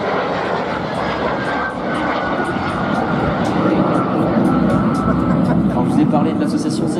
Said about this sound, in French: le Paris ça peut être un avion de transport dans sa conception, il n'en est pas moins manœuvrant et peut faire de la voltige